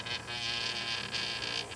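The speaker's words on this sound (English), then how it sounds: "I have this, which is a electric razor." An electric razor switched on and held running, giving a steady, close insect-like buzz with slight wavering in intensity throughout.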